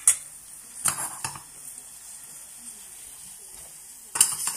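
Pineapple caramelizing in a hot pan gives a steady quiet sizzle, with a few sharp clinks of a utensil against the pan breaking through now and then.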